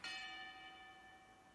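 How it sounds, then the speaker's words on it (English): A single ring of a boxing bell in an anime boxing match episode, a clear metallic strike that rings on and slowly fades, fairly quiet and heard alone. "The bell is very reassuring and very scary."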